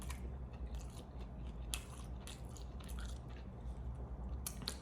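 Crunchy bites into KFC fried chicken, a quick run of close, crisp crunches and chewing at low volume, with no talking.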